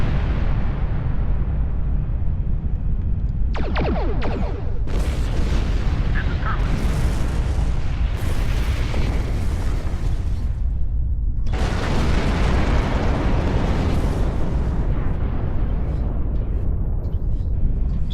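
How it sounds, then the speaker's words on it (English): Deep Space Nine's torpedoes blast a looming bug ship in a Star Trek video game, a dense, continuous roar of rumbling explosions and booms with sharper bursts layered on top throughout. "you're forcing DS9's torpedo launchers to target the looming bug ship that you can target, but cannot fire upon on your own"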